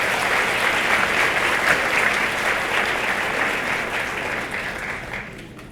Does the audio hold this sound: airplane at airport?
no